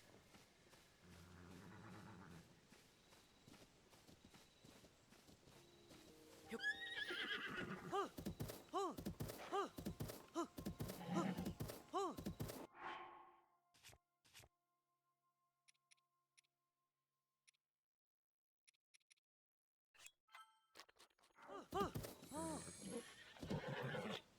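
A horse in The Legend of Zelda: Tears of the Kingdom whinnies loudly amid rhythmic clip-clop of hooves, then quiet with faint sounds before another snort and whinny near the end.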